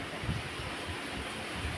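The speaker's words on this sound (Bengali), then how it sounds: "দেখো কত হাওয়া দিচ্ছে, খুব সুন্দর হাওয়া দিচ্ছে" Steady wind blows through jackfruit tree leaves outdoors, a constant broadband rush with low gusty rumble buffeting the microphone, and no voices.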